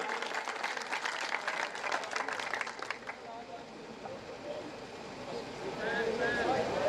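An audience at a Punjabi poetry recital claps for a poet, a lively burst of applause that fades after a few seconds as speech takes over.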